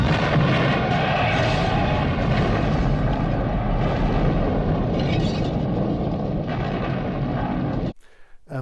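A house gas explosion in the horror film Phantasm II: a loud, sustained roaring blast with dense rumble that fills nearly eight seconds before cutting abruptly to near silence.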